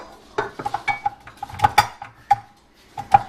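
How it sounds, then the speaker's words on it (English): A metal paddle attachment clinks and taps against a mixer bowl holding icing sugar, a quick series of bright, close metallic knocks and rattles with short ringing tones, no talking. "I'm just going to put in my paddle attachment here"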